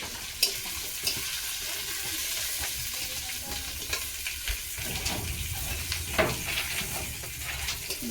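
Fish frying in a pan with other ingredients, a steady sizzle running throughout while a spatula stirs and scrapes in short, irregular knocks, close and fairly loud with no talking.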